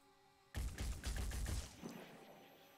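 A rapid burst of gunfire in the tactical game Phoenix Point, a dense volley of cracking shots lasting about a second, then trailing off into a fading rumble with no talk.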